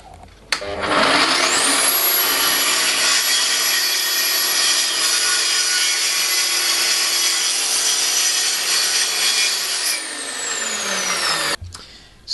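A track saw cuts through wood with no dust extraction attached, a loud, steady, close whine that spins up, holds for about ten seconds, then winds down and stops.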